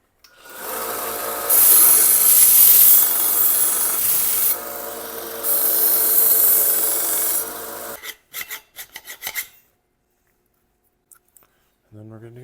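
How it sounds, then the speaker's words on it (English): Hand file rasping burrs from the cut end of a bicycle frame tube, steady rubbing strokes for about eight seconds, then a few short scrapes before falling quiet. "And then I just clean up the"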